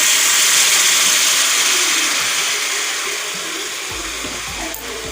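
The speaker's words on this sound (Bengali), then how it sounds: "এখানে কড়া আমার গরম হয়ে গেছে। এখানে আমি খেজুর গুড় নিচ্ছি।" Date palm jaggery dropped into a hot wok gives a loud, hissing sizzle at first, which slowly fades and softens over several seconds with a few faint knocks near the end.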